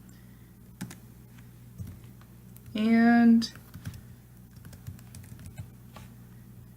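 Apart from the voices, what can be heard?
typing on a computer keyboard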